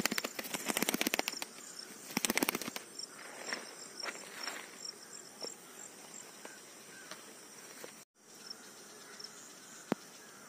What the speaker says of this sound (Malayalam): പ്രാവ് രണ്ടും പോകുന്നുണ്ട്.